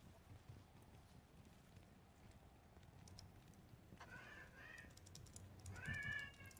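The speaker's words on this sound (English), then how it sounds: "That's my cat thanking you as well" A cat meows a few times, quiet and nearby, with short bent cries toward the end over a low background of clicks and faint room noise.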